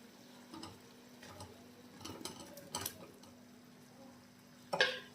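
Lightly fried paneer stirred in a kadhai: soft scraping and faint metallic clinks come at a loose, uneven rhythm, with one sharper clatter of the utensil near the end. No one talks.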